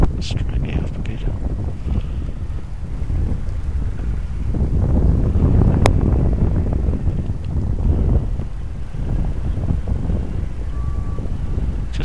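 Strong wind buffets the microphone in flight under a KFm9 paramotor wing, a loud roaring rush that swells and eases and covers a voice speaking through it.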